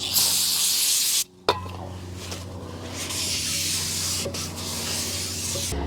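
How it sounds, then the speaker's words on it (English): An aerosol can of brake cleaner sprays onto a rear brake rotor of a 2017 Honda CR-V in a loud hiss, stops briefly, then resumes in a longer steady spray with faint clinks around it. "so I can spray the outside with brake clean and wipe that down"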